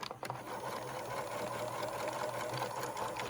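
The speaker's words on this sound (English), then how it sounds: "Switch my seam to a zigzag," Sewing machine running steadily while stitching a zigzag seam on an N95 mask cover, a continuous close whirring hum with fine rattling texture throughout, no voices.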